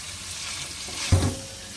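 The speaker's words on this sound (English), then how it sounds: "Then give it a stir a little bit again." Potatoes and celery frying in oil get stirred, a low hiss of sizzling with one brief scraping stir and clunk partway through, close and moderately loud.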